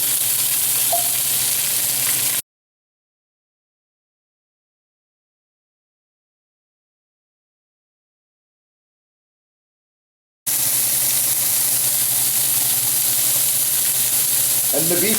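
Carrots frying with garlic in a hot pan give a steady, close hiss and crackle. The sizzle drops to complete silence for several seconds, then comes back at the same level.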